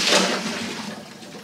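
A salad spinner whirls washed vegetables dry, giving a steady, fairly loud rushing whir that fades slightly over its short span, with no voices.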